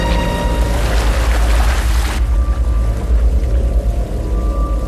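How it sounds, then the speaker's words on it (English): Floodwater pours out of a hotel lobby after a skywalk collapse: a loud, continuous rushing roar of water with heavy low rumble, steady throughout and close, with no voices. "Water starts to pour out of the lobby."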